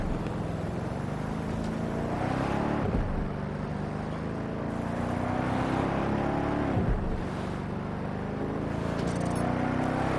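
A car drives itself in the video game Watch Dogs: Legion, with a steady engine hum and tyre roar that rise and fall through gear shifts. The sound is continuous and moderately loud, and no one speaks.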